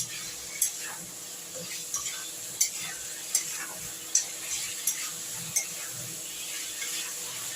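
Prawns with yam and potatoes stir-fried in a pan for a Bengali chingri danla, a soft sizzle under repeated scraping and clinking strokes of a spatula at an even rhythm.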